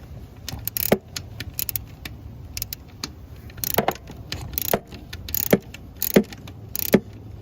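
A wrench slowly turns out a grimy distributor hold-down bolt nut on an S10 2.8 V6, giving repeated sharp metallic clicks and ratchety scrapes in an irregular rhythm, close up and with no talking.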